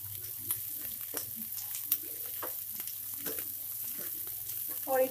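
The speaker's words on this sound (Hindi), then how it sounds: "अब हम डाल देंगे बीन्स, इसको भी अच्छे से फ्राई कर लेंगे।" Green beans stir-frying in a pan for hakka noodles: a soft, continuous sizzle broken by scattered clicks and scrapes of stirring, fairly quiet and close, with a brief louder scrape at the end.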